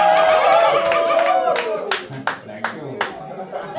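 Audience clapping at a children's bear-hunt storytelling session, a run of sharp separate claps that turns sparse and uneven toward the end, with a voice talking over the first half.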